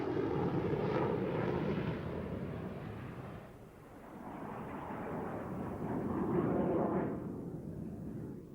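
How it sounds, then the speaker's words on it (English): Lockheed F-104 Starfighter jet taking off from a runway: a steady, broad engine roar that dips briefly and then swells again, loud and continuous with no voices. "he then started down the runway and lifted the 104 into the air"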